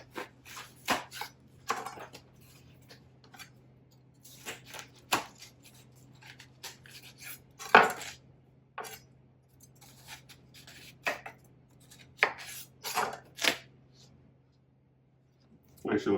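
A knife slices a whole watermelon in half for a catering-style fruit platter, producing a series of close, crisp crunching cuts and scraping strokes in irregular bursts, with quieter pauses between them.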